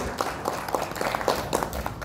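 A short burst of warm audience applause for a speaker at a small-business networking event, dense overlapping claps at moderate level throughout.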